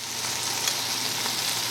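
Eggplant sizzling in a pan in its own oil with no oil added, a steady close hiss of frying that carries on unbroken.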